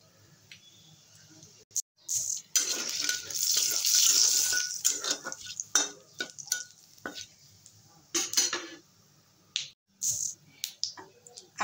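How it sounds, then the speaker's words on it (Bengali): Bay leaves and whole cumin seeds hit hot oil in a kadai already used for frying fish, giving sharp crackling bursts and a sizzling spell in the middle, broken by clicks of a utensil and short pauses. "এবারে দেবো তেজপাতা ফোড়ন,"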